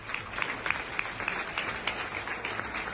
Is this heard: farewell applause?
yes